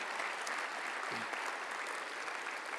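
A banquet audience at an ethics awards dinner in a Hyatt hotel gives a steady round of applause, dense even clapping from many hands held at a moderate level throughout.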